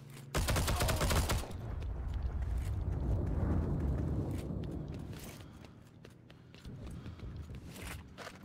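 Gunfire in the Heroes & Generals shooter, a loud dense burst of rapid shots at the start, then a sustained rumbling barrage with scattered sharp cracks fading and returning near the end.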